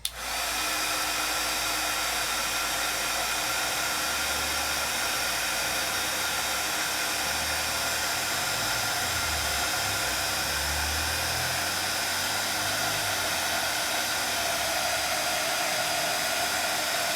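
A heat tool melts embossing powder to heat-set it, blowing with a loud, steady, whooshing hum that runs unbroken and close, with no talking.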